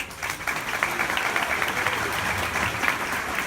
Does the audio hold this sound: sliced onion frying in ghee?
no